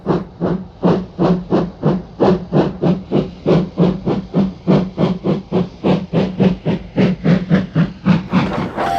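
A steam locomotive, a tank engine, chuffs in a steady, regular rhythm, each loud puff of hissing exhaust repeating about three times a second, close and prominent.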